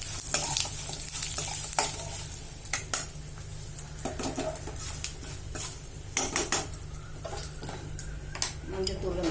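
Oil sizzles and crackles steadily in a pan with asafoetida and turmeric powder added, with occasional clinks of a utensil against the pot close by.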